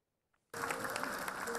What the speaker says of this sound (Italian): Applausi scroscianti, un teatro Savoia pieno